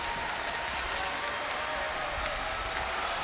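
A wrestling arena crowd applauds in a steady, dense roar of clapping that stays even throughout, heard from within a large indoor venue.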